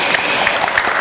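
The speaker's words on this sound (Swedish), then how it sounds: "eller det tycker jag är värt en applåd." An audience at a panel discussion applauds in a grand hotel hall, giving a dense, even wash of clapping hands for a brief moment.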